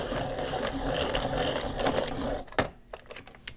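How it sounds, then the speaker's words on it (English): A colored pencil turning in a sharpener gives a steady, close, gritty whirring grind that stops abruptly partway through, followed by a few light clicks and taps. "I'm going to sharpen the other one while I'm here"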